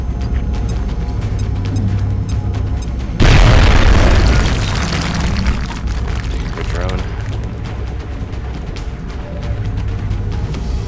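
A grenade explodes in the video game XCOM: Enemy Within with a single loud, deep boom partway through, then a fading rumble. Game sounds and voices continue before and after.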